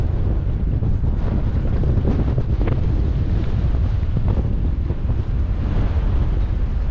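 Gusty shoreline wind beside a stalled jetski, a loud, unbroken rumble of air battering the microphone, with faint hints of surf beneath and no one speaking.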